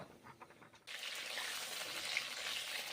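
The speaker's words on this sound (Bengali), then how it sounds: "পটলগুলো এখন ভেজে নিচ্ছি, তেল গরম হয়ে গেছে।" Pointed gourd (potol) pieces frying in hot oil, a steady close sizzle that starts abruptly and then holds at an even level, with no voices.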